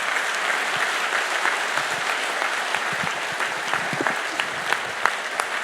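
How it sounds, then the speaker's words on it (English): A seated audience gives a warm, sustained round of clapping, dense and steady, with occasional sharper individual claps standing out near the front. "A big round of applause to all of them."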